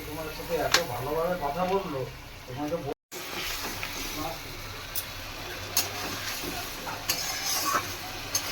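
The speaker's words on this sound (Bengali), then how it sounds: "আমি মশলাটা ভালো করে কষিয়ে নেব" Spices with turmeric, salt and a splash of water stir-fried in a pan for a fish curry: a soft sizzle and scattered spoon scrapes, with talking over the first few seconds before a brief dropout.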